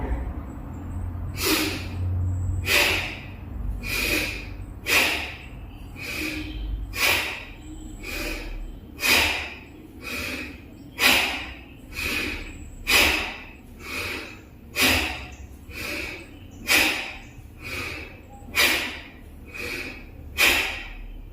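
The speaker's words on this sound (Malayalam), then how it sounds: "ഇങ്ങനെയപ്പം ഫോഴ്സിൽ ഇൻഹെയിൽ എക്സെയിൽ" Forceful yoga breathing: sharp, rhythmic inhales and exhales, about sixteen strong puffs at a steady pace, close and loud over a quiet background.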